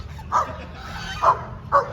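Dogs barking outdoors: three short, evenly spaced barks at moderate distance over a low background hum, with no talking.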